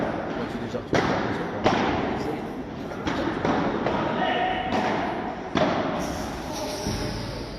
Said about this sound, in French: Elle a touché la grille du bas avant de toucher le sol.